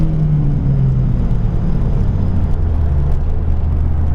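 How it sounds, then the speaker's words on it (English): Cars roaring down the strip at a drag race, a loud sustained low rumble and engine drone with a faint whine, steady and close with no speech. "It's a drag race."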